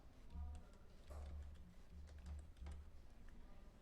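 Soft, quiet keystrokes tap on a computer keyboard as a style name is typed into the Hangul word processor, a light irregular clicking over low background hum.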